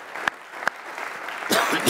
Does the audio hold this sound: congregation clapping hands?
yes